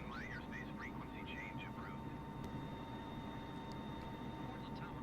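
Boeing 747 jet engines held at full throttle in Microsoft Flight Simulator 2020, a steady broad roar with a constant whine, alongside faint chirping sounds.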